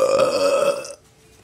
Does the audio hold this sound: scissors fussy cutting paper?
no